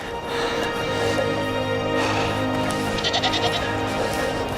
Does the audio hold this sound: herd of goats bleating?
yes